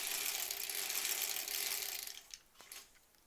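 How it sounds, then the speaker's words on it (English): A 1960s sewing machine runs with a steady whirring, mechanical hum that slows and stops near the end, followed by a few faint clicks. "my grandma's old sewing machine here"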